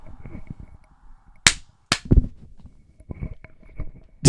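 Sharp, loud hand claps ring out one at a time, two close together and a third after a pause, with faint background voices and low movement between them.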